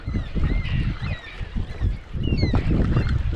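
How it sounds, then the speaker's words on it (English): Raucous calls of a flock of black cockatoos squawk repeatedly overhead, rising and falling over a steady outdoor rumble, with a brief lull in the middle. "Here comes a heap of black cockatoos now."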